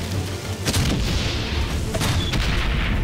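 Gunfire in the video game Valiant Hearts, with heavy booming shots over a dense, rumbling battle background, two or three strong thumps standing out.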